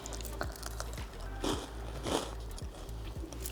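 Salt and vinegar crisps crunch in a steady run of close, crackly bites and chews, soft but distinct, several crunches spread over a few seconds with no talk.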